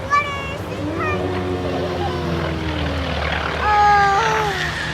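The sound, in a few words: airplane flying at air show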